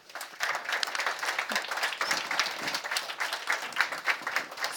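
An audience at a panel debate on free education claps steadily throughout, a dense, even burst of applause at moderate volume with no talking over it.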